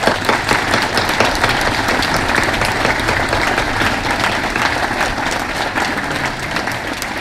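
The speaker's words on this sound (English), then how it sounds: "please have them stand so we can give them a round of applause" Loud, sustained applause from a sizable audience at a nursing pinning ceremony, many hands clapping continuously at an even level for several seconds.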